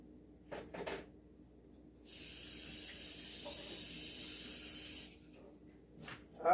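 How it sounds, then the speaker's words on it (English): Mushrooms hitting a hot pan for plant-based vegan sausage, a sudden loud sizzling hiss that holds steady for about three seconds before dying back to quiet kitchen clatter. "we're going to saute these mushrooms"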